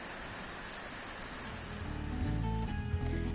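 Heavy rain pours down on farmland and water rushes off in a runoff torrent, a dense steady roar that swells louder partway through and carries on.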